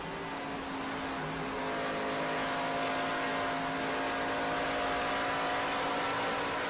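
NASCAR K&N Pro Series East race car at Dover International Speedway, its engine held steady on throttle in a loud, continuous roar with a sustained tone and no talk.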